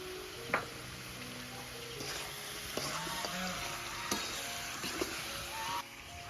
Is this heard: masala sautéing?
yes